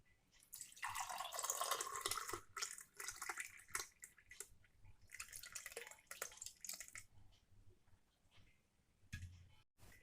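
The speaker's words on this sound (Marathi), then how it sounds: "पिण्यासाठी ग्लासमध्ये ओतून घेऊया।" Malai lassi poured into a glass, a close, soft liquid stream with scattered drips and splashes that comes and goes over about ten seconds, quiet overall with no talking.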